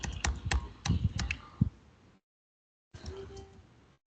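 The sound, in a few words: typing on a computer keyboard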